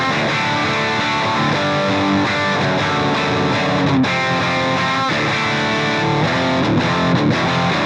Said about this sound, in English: let's hear the Cameron at stock settings with this tiny little pig nose IR